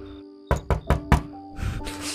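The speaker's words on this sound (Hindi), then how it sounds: "एक बार फिर से अभी दरवाज़ा खटखटाने की आवाज़ आई, बट इस बार ये आवाज़ मेरे घर के मेन दरवाजे पे से नहीं बल्कि मेरे बेडरूम के दरवाजे पर आई है" Several sharp knocks on a bedroom door inside a house, four distinct raps in quick succession, fairly close and clear against a quiet room, followed by soft rustling.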